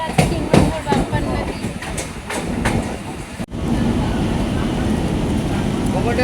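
A train rumbles steadily close by in a village near an old zamindar house area, with a rushing clatter and a few sharp knocks early on, while people talk over it.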